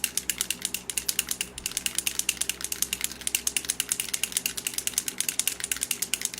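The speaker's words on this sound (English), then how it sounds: "You just have to make sure you get it shaken up well because it's aerosol." An aerosol can of spray foundation is shaken hard, the mixing ball rattling in a fast, steady rhythm of sharp clicks that lasts several seconds, close and loud, with no voices.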